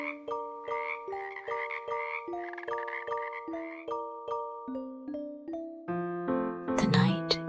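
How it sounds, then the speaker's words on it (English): A chorus of frogs croaks rhythmically in a night forest, repeated clear tonal calls stepping through pitches like a musical sequence, ending in a brief louder flourish. "and the frog choir performance."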